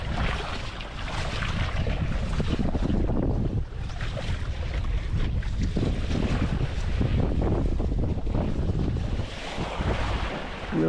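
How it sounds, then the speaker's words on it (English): Steady wind and water rush while sailing on a board, loud and continuous throughout with constant buffeting gusts over the microphone and no voices. "A little bit of wind."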